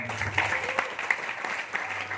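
Scattered applause from a modest audience at a seminar, fairly soft clapping with some background voices.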